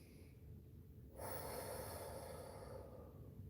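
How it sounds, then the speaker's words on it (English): A single deep breath drawn in on a counted cue, a broad airy rush that swells at about one second and holds steady for a couple of seconds before easing off, close to the microphone with no talking. "On the count of 3, we are going to take our deep breath"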